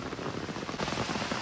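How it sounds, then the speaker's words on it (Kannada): Heavy rain pours steadily at a resort in Kerala, a dense, continuous hiss of drops hitting surfaces with no voices. "ಹೆವಿ ಮಳೆ."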